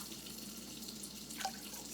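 Water runs from a tap into a cooking pot on a kitchen scale, a steady, soft hiss of flowing liquid with a brief splash near the end, fairly quiet and with no voices.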